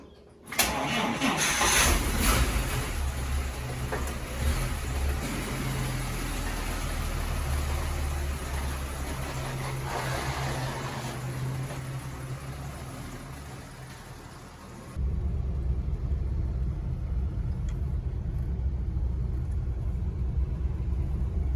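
A Plymouth car engine cranks and catches, then runs steadily at a loud, close idle with a deep rumble, shifting in tone partway through as it keeps running alone without talk.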